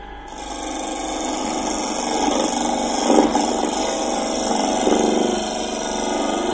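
Wood lathe spinning a bed knob as a skew chisel cuts, a steady loud motor hum and hiss with a faint rhythmic scraping, continuous throughout with slight swells in intensity.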